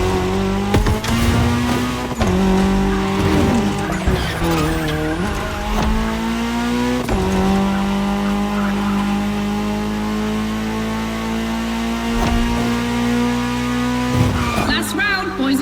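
A Ford Puma Hybrid Rally 1, an electrified rally car, races in The Crew Motorfest, its engine droning steadily and loudly with pitch shifts as it revs, with brief tire skids throughout.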